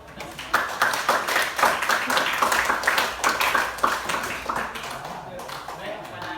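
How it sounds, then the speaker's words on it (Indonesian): A history class claps together in a classroom, a dense patter of many hands that builds quickly, holds for several seconds, then thins out, with a voice talking over the clapping. "Mari kita berikan tepuk tangan yang meriah untuk kita semua"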